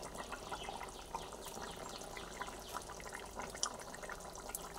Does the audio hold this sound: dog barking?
no